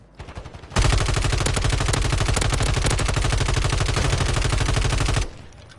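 Sustained automatic gunfire in Warzone MW3, a loud continuous rapid burst lasting about four and a half seconds with steady rhythm, close and dominant, starting abruptly after brief quiet and ending sharply.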